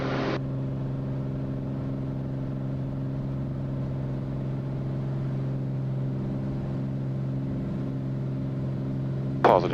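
Aircraft engines run at steady takeoff power during the takeoff roll, a loud, constant droning hum with tonal harmonics that holds unchanged throughout, heard from inside the cabin.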